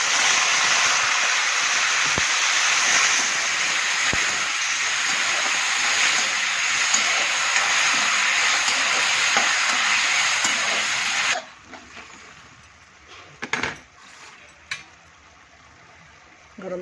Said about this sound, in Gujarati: ટામેટા નાખી દઉં।